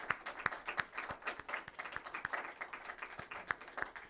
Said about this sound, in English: round of applause to Ambassador Liliana Ayalde